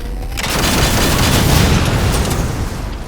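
A charged Mantis weapon firing in Halo 4, a loud booming blast that swells quickly and rolls on as a heavy rumbling wash before fading slightly, with no speech.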